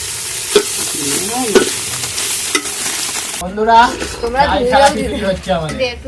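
Dalia with masala being stirred and fried in a pan for a vegetarian khichuri, a bright sizzle with scraping spoon strokes that drops away partway as someone talks over it.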